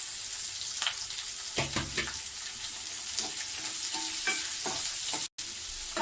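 Green chillies and onions for chilli chicken fry in a pan with a steady sizzle, while a spoon stirs and scrapes through them in irregular strokes, close and clear with no speech, cut by a brief dropout near the end.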